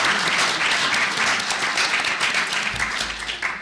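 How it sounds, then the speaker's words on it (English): Audience applause for a faculty speaker at an academic religion lecture, a dense steady clapping from a room full of people sustained throughout at fairly loud level. "And let's have applause for Mara Willard."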